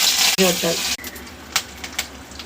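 Chana dal and urad dal fry in oil in a kadai, opening with a brief loud hissing sizzle that drops to quieter scattered crackles, with a voice speaking over the start.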